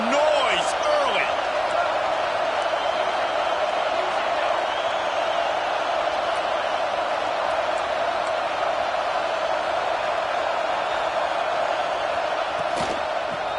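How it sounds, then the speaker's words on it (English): A roaring football stadium crowd at a Georgia versus Wisconsin game, a dense, constant wash of cheering and noise that stays loud throughout, with a couple of brief whistle-like rises near the start. "This crowd bringing the energy and noise early."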